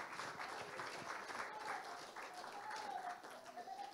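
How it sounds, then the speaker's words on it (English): Church congregation giving a steady round of applause at a Sunday evening service, continuous clapping heard at some distance and fairly faint, with a voice rising briefly over it. "give him a big hand clap of praise tonight"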